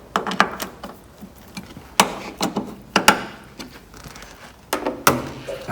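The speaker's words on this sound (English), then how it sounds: "Tighten each blade bolt up." Blade bolts being tightened on an Ideal 5560 guillotine, a run of sharp, close metallic knocks and clunks in irregular clusters, with no talk.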